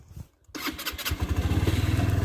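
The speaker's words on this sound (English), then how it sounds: "I did say I would put the engine on so you could hear what it sounds like" A Lexmoto Aura motorcycle engine is cranked over by its starter and fires up, settling into a close, steady, rhythmic idle after a brief pause.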